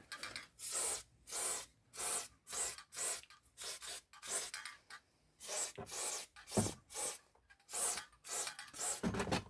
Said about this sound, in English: Nice coating of graphite. Let's get the underside.